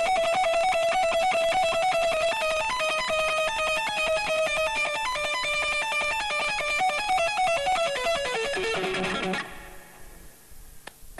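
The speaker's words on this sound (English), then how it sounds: "is the effect I do with the delay" Electric guitar played through a delay effect in a blues-rock lesson: a rapid, cascading run of bright repeating notes that descends and ends in a ringing, washing tail.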